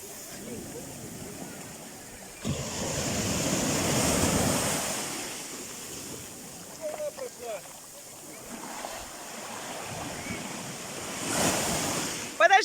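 Sea waves surging and breaking on a shore in windy weather, swelling washes of surf with wind buffeting the microphone, while people speak briefly nearby.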